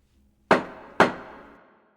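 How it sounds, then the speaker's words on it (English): Two sharp wooden bangs of a gavel strike half a second apart, each ringing out briefly in a quiet room. "the loud bang of the judge's gavel startles me"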